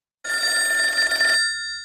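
A telephone bell rings in a radio station studio as a call comes in. One loud, steady burst lasts just over a second, then cuts off sharply, leaving a brief fading tail and no voices.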